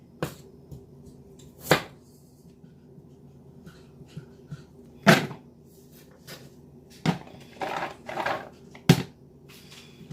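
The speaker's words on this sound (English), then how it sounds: "So I'm just going to cut them down the middle." A knife cuts thick slices of chuck roast down the middle on a board, giving about eight sharp, irregular thuds and scrapes that stand out close against a quiet background.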